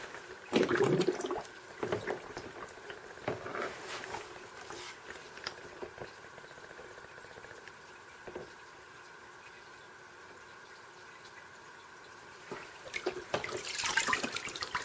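Water sloshes and splashes as a Milwaukee 20-inch jobsite tool organizer is pushed under water in a sink or basin, with gurgling and dripping, quieter in the middle and busier at the end.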